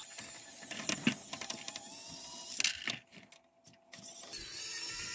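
A small electric precision screwdriver whirs in short bursts while driving out the screws that hold the ballast in a vapor-tight LED light fixture. The motor buzz is close, with brief pauses and light handling clatter between runs.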